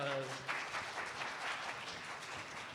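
Children and staff at a Bible camp applaud their helpers in a brief, soft round of clapping. It follows a moment of speech and sounds fairly distant and low in level.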